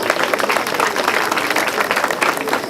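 A crowd at a school classroom commissioning ceremony breaks into loud, dense applause, many hands clapping steadily and close for the whole stretch.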